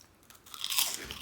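Close, loud crunching and chewing of a crunchy Spanish wheat snack, with a crisp bite rising into a burst of brittle crackling and no talk.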